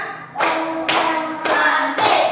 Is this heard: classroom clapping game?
yes